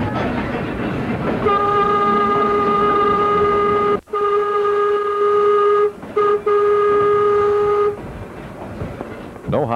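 A vintage trolley on the East Troy line rolls over jointed rails. A steady rumbling drone runs throughout under a long sustained horn tone, broken by sharp clicks and short gaps as the wheels cross rail joints.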